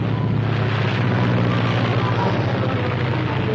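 A propeller airplane drones steadily overhead in an old film serial, a constant low engine rumble with a broad airy roar layered over it and no pauses.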